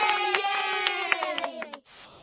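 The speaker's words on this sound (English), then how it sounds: "You made the children clap and say hooray." A group of children clapping and cheering hooray, a lively burst of rhythmic claps and high excited voices that stops abruptly near the end, followed by a short tonal tail.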